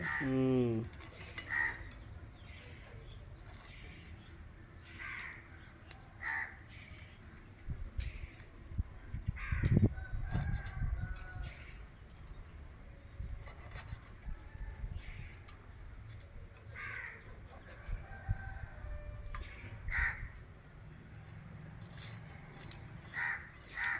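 Several crows caw outdoors at intervals, some near and some farther off, with scattered voices and small clinking sounds in between.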